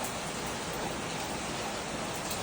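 Heavy rain falling outdoors, a steady, even, faint wash of dense patter with no breaks and no voices.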